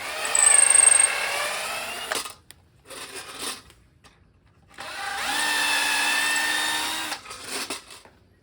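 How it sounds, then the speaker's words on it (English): A power drill drives screws into a custom entry door frame. It whines in two longer runs with a few short bursts between them, loud and close, and no one speaks. "Glue it in, and then I'm going to screw it in."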